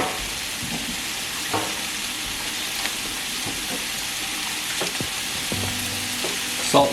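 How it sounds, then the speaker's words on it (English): Ground meat for shepherd's pie frying beside softened vegetables in a pan, a close, steady sizzle with occasional scrapes and clatters of stirring, no voices. "We're gonna throw our meat in."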